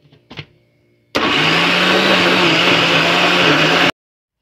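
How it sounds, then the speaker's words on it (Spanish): A kitchen blender whirs steadily for about three seconds as it blends rice, oil and egg into a thick batter, starting abruptly after a couple of brief clicks and cutting off sharply, loud and close with a sustained motor hum. "Y empezamos a licuar."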